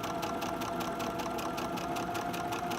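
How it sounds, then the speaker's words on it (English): A sewing machine running steadily in a chain stitch on a Halloween sewing project, its rapid even needle clatter continuous and close throughout with no talk. "So let's chain stitch this since I have to do 2 of them."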